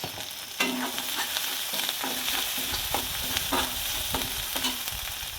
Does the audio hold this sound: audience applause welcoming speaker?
no